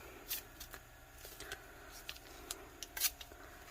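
Scissors trim excess faux leather sticker material on a tumbler, giving a few quiet, close snips and crisp cuts scattered over a few seconds with no talking.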